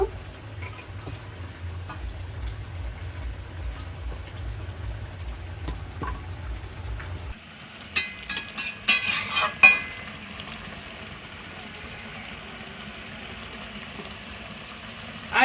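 Fish head, hilsa, added to a pan of simmering potato and stem curry, frying and stirred; a steady low sizzle gives way to sharper spoon scrapes and clatter in the middle, then settles to a quieter bubbling.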